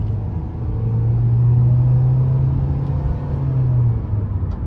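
A 2023 Nissan Kicks SR with a non-turbo 1.6-liter four-cylinder engine pulling under acceleration, a steady droning hum that rises slightly and holds for several seconds before easing off, heard from inside the cabin with road rumble.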